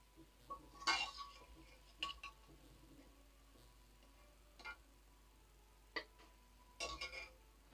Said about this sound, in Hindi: अब हम इनको प्लेट में निकाल लेंगे।